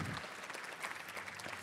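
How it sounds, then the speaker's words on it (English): A brief burst of audience applause, faint and distant, with steady clapping from a crowd after a live game demonstration. "Another round of applause for Peter."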